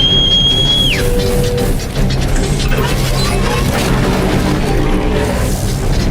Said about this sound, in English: the whistling you're hearing was a guy calling for his mount to come